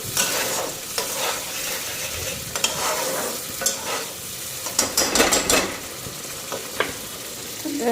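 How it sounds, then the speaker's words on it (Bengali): Potatoes and spices fry in a pan with a steady sizzle, punctuated by irregular spoon scrapes and clinks against the metal, close by and moderately loud, with no speech. "এদিকে মশলাটাও দিয়ে দিলাম আলুটা ফ্রাই কইরা"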